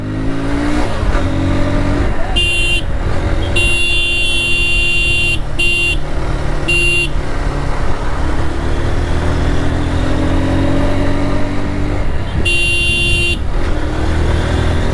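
A used motorcycle with 18,000 km on it runs loudly and steadily up close, the engine droning throughout while several vehicle horns honk in short bursts nearby.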